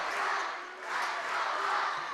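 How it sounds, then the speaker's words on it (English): Home crowd at a high school boys' varsity basketball game chants in unison, a broad roaring wall of voices that swells, dips briefly, then rises again across the whole stretch, filling a gym. "Hudson crowd getting into it a little bit with a chant"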